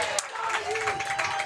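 A softball crowd cheering and clapping to lift a tired pitcher, a broad steady roar with scattered claps, heard under a commentator talking.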